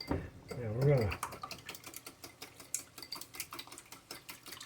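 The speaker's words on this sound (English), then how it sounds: "whisk our eggs, 2 eggs" Two eggs whisked in a bowl for egg drop soup, a fast, steady clicking patter of whisk against the sides, brief talk at the start.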